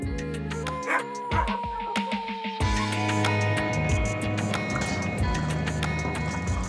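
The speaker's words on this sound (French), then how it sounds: "des chiens de tout poil, qui, contrairement aux idées reçues, ne sont pas tous des huskies" Sled dogs of mixed breeds, not all huskies, bark and yip continuously at a sled dog race, a loud overlapping chorus of many dogs close by, with no talk over it.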